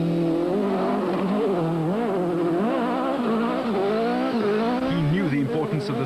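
A 2-litre Class A8 VW Golf rally car races at high speed on a Cape Rally stage, its engine revving up and down through gear changes with a sustained, rising and falling whine beneath a narrator's voice.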